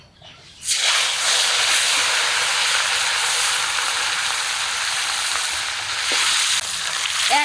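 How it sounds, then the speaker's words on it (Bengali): Hilsa fish frying in smoking-hot oil in a home kitchen: a loud, steady broadband sizzle bursts in as the fish hits the pan and holds for several seconds, close and with no speech. "তেলটা একদম টনটনা গরম হয়ে গেছে এখনই মাছটা দেবো"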